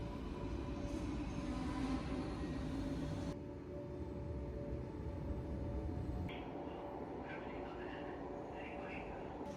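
Steady rumble and rolling hiss inside a moving passenger train, constant and enveloping, with faint background sounds shifting partway through.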